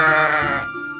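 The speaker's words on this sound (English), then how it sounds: "his sheep had escaped" A single sheep bleats once, close and loud, a wavering call that fades out within a second.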